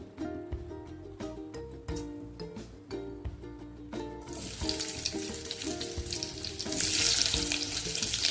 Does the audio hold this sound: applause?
no